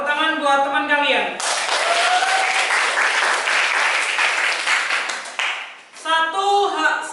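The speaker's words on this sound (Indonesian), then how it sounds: "tepuk tangan buat teman kalian" Classmates in a civics class applaud a student's question in a burst of brisk, dense clapping that swells and then tapers off, with a voice speaking in Indonesian before and after.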